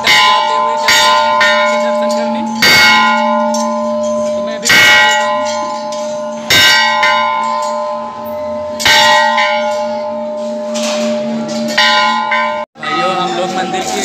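A temple bell at Maa Chandrika Devi temple struck about eight times at a steady, roughly one-second pace, each loud metallic clang ringing out over the low murmur of a crowd of worshippers.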